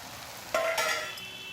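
Raw jackfruit and spices being stirred and fried in a pan, a soft sizzle that swells as the mixture is scraped and turned partway through, with no talking.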